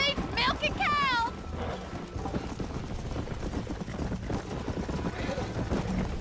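A horse gallops through a GTA video game world, with continuous rapid hoofbeats under game sound and music, opening with a loud whinny, and a voice talking briefly near the start.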